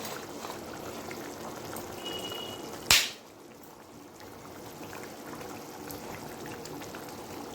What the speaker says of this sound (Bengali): চাটনিটা একটু দুই তিন মিনিট ফুটাই নেব